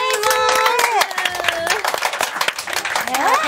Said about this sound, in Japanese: 歓声が上がりました。